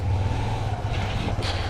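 An old carbureted motorcycle pulls away, its steady low engine drone close and fairly loud throughout, with a brief rise in pitch near the end and no talk over it.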